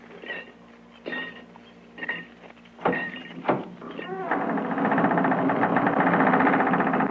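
Radio comedy sound effects of a door being knocked on and unlocked: several sharp raps and clicks spaced out over the first seconds, followed by a steadier, louder rattle of the latch opening, close and clear.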